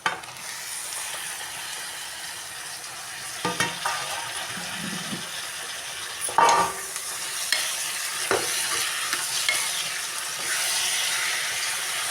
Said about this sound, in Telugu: ఇప్పుడైతే టమాటాలు కూడా వేసేసుకుంటున్నాను